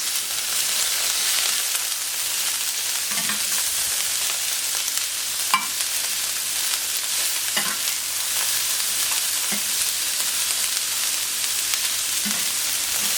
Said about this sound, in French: Les aubergines grillent.